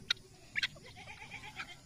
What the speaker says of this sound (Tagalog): Pati yung kambing nakikigaya na rin.